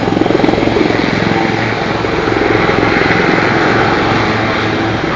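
Lynx helicopters flying in close formation at an air show, a loud steady rotor thrum with rapid blade chop, close and continuous throughout without speech.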